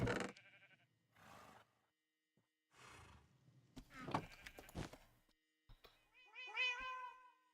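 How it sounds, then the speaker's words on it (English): Cat meowing in Minecraft, a series of several distinct meows and purring-like cries spaced out with short pauses, fairly faint overall and heard without talking. "Great cat."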